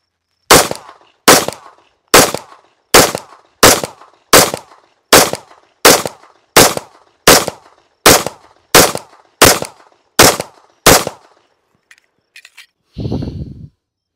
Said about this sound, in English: Let's just get to shooting the stinking gun.